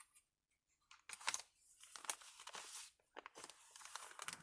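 Scissors cut down an oversized paper page for a handmade journal, close, crisp snipping and rustling strokes in short bursts separated by brief pauses.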